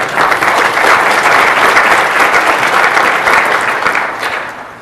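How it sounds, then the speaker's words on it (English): Audience applause at a technology conference presentation: dense, steady clapping from a large room that stays strong for several seconds, then gradually thins out, with no speech over it. "Okay, you're allowed to clap."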